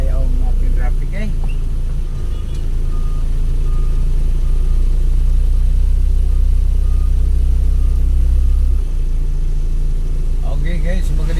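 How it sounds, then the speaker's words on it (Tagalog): Heavy street traffic crawling bumper to bumper in Iligan City in the afternoon, a steady loud rumble of car and truck engines idling and creeping close by, with reversing beeps at moments and talk over the top. "Bakit mukhang bumper to bumper na ayaw ang ating traffic eh?"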